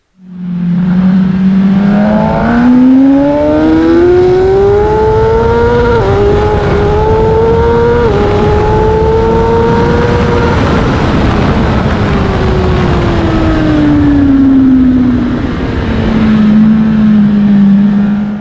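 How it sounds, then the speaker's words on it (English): A racing motorcycle accelerates hard out of a corner in first gear on a track, its loud, close engine screaming steadily upward in pitch to the rev limiter before a shift, then dropping and holding. "As you can hear, I'm exiting the last corner in first gear and really trying really hard. Hit the limiter, gear second"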